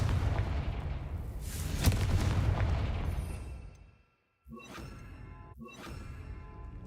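A Confringo blast spell in a Harry Potter video game goes off as a loud booming burst with a rushing tail that fades to silence, followed by two sharper magical pops a second apart.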